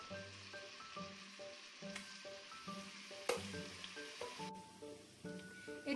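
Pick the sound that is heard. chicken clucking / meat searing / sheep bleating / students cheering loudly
meat searing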